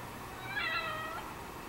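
A cat in the video game The Evil Within (The Assignment DLC) gives a single drawn-out meow, clear and close against a low game ambience.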